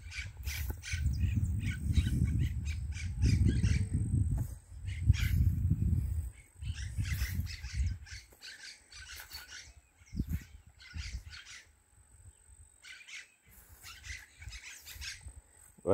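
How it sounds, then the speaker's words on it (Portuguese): Parakeets chatter noisily around a nesting site, with repeated sharp chirps and calls in irregular bursts over a low rumbling background that fades in the second half. "Que deve ter periquito fazendo ninho ou chocando, sei lá, é uma bagunça"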